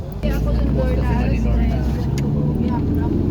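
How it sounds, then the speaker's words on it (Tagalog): Traffic on a Bangkok city street, a steady loud rumble of engines with a car or two passing close, under continuous talk. "Traffic."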